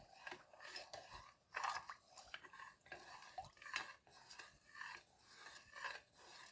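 A spoon stirs a thickening Lord Woolton pie filling in a pot, a steady rhythmic scraping and clinking, close and quiet, with no talk.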